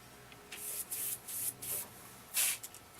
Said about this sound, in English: Spray down here a little bit because I want it to run.